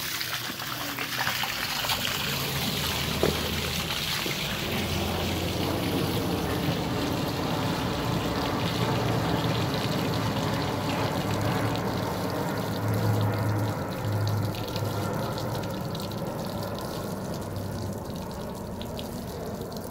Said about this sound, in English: while the water is draining out of the system